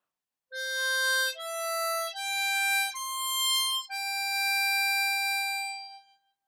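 A C harmonica slowly plays a phrase of a song, five sustained reedy notes in sequence, the last held longest before fading, clear and alone.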